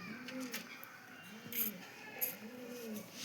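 Pigeons coo in a loft of Giribaz flying pigeons, repeated soft low rolling coos in a steady rhythm, close by, with faint background ambience and no talk.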